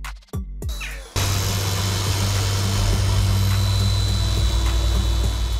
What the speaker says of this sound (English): Reconnaissance helicopter.